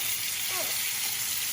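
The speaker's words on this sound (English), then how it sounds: "very important to sear the bottom and the top" Beef tenderloin searing in a hot pan, a steady loud hiss and sizzle throughout with a brief faint scrape midway.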